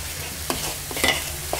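Onion, garlic and tomato sauté in a restaurant pan for a lobster and langoustine fideuà, giving a steady soft sizzle with a few stirring scrapes and clinks close by.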